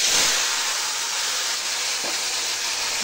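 A dried red chilli and panch phoron splutter in hot oil in a kadai, a loud, continuous frying hiss with faint crackles and one brief pop near the middle, no voices.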